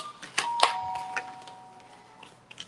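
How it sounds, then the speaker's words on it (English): A doorbell chimes once with a ringing tone that fades out, over a few sharp clicks and faint background noise. "Sounded like a doorbell."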